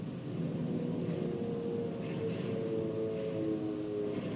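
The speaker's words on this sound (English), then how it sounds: "Many of these Marine planes taking off were destroyed by the Japanese fighters attacking the island." World War II Marine planes take off from an island airfield, heard as a steady, fairly distant engine drone and low rumble that holds without a break.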